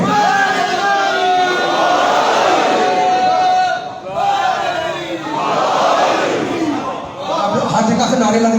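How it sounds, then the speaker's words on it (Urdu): A large crowd at a Muharram majlis gathering chants loud rhythmic slogans in unison, two long swelling waves of many voices, dense and close, filling the space with no pause. "ہر جگہ سے نعرے لگ رہے ہیں، نعرے حیدری یا علی، نعرے حیدری یا علی"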